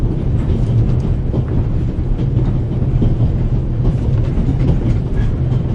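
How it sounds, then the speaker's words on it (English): Steady rumbling train running noise inside a passenger carriage in the video game The Raven, with continuous low clatter and rail rhythm filling the whole stretch at a constant loud level. "The noise on this train is driving me crazy."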